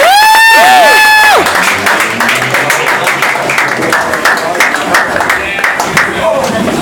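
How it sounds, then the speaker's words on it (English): A crowd at a live show in Waikiki applauds and cheers as a hypnotist comes on stage. The dense, loud clapping runs throughout, and a swooping electronic effect plays at the start. "I'd like to have a round of applause for Brian coming up."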